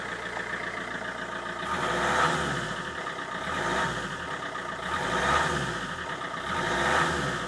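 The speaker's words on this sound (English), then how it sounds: "As you can see, the car's revving and there's no abnormal smoke," A 2006 Peugeot 407 2.0 HDi diesel engine revved repeatedly, four rising and falling surges over a steady running drone, heard nearby with no talking.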